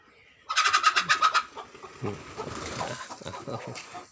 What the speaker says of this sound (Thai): ไก่ครับบินลงมาจากหลังคาแหมทำลายสมาธิ